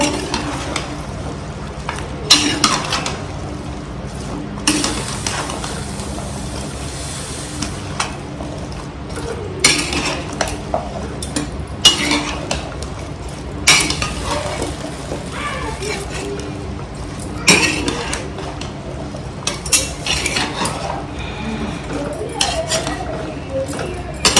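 A spoon stirs masala spices into food in a pot, scraping and clinking against the metal over a soft sizzle, close and continuous with occasional louder knocks while someone talks intermittently.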